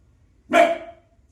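A single sharp dog bark rings out nearby, loud and brief, with near silence before and after.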